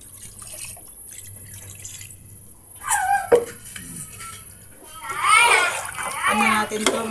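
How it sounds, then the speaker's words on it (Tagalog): Water splashes and pours into a cooking pot of rice and chicken at home, a soft close trickle under quiet background noise, with a voice and other speech coming in partway through. "Lalagyan na natin ng water."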